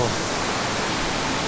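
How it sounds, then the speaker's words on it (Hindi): Mawo waterfall pours in a dense, steady rushing roar, close and loud, with no break in the wash of falling water. "ये है खूबसूरत मावो वाटरफॉल"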